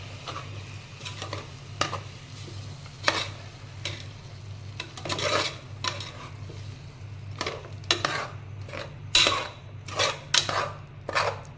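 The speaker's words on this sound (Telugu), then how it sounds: "వేసిన తర్వాత కూరను బాగా కలుపుకున్నాం." Curry being stirred in a pan, a spoon scraping and clinking against the metal in repeated strokes over a low steady sizzle, close and fairly loud, with no talking.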